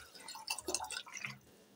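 Water poured into roasted moong dal in a cooking pot while making moong khichdi, a brief splashing, gurgling pour with dripping, close and fairly faint, heard alone.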